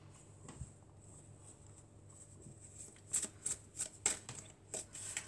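Tarot cards being shuffled, a quiet run of soft papery riffles with several distinct flutters near the end, close and alone with no talk.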